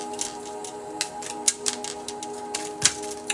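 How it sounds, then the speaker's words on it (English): Tarot cards being shuffled by hand at close range, a run of quick crisp riffling clicks and light snaps with several sharper flicks, over a steady faint background hum. "We're going to shuffle for Heather."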